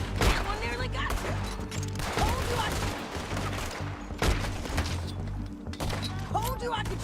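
Outlaw gunfight in Red Dead Redemption 2, with repeated loud gunshots and rapid volleys cracking over a busy mix while voices talk throughout.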